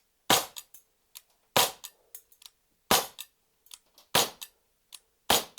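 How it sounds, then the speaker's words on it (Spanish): A BB air pistol fires five sharp, loud cracks at steady intervals about a second apart, each shot followed by small mechanical clicks and clatter. "Directamente introducimos cargador, amartillamos y vamos a proceder a disparar."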